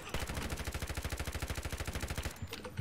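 Sustained spray of automatic gunfire in the online shooter Ironsight, a rapid even burst of around thirty loud close shots lasting over two seconds before cutting off.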